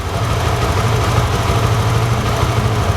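A car engine idles steadily during an idle fuel adjustment, giving a continuous low rumble with a slight vibration that stays even and unbroken throughout, heard alone with no voices.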